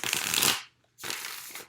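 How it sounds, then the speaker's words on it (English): Tarot cards are shuffled by hand in two quick riffling bursts separated by a brief pause, close and crisp with no talking. "2 more shuffles."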